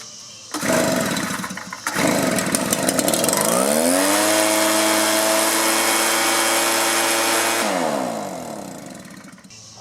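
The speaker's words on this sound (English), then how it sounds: "Try to start it without the air filter." A small 2-cycle blower/trimmer engine, run without its air filter, sputters and catches, then revs up loud and buzzy and holds a high whine for several seconds before the pitch drops back toward idle, heard up close.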